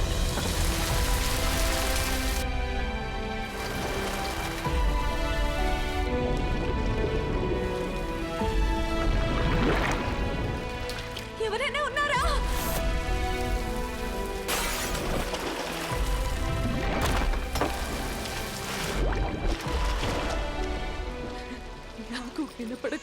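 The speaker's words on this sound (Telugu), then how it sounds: "నగరంలో 2 రోజుల నుండి భారీ వర్షాలు కురుస్తున్నాయి" Heavy rain falling on a city during a film trailer, a steady broadband downpour running the whole time, loud and dense, with music and voices layered over it.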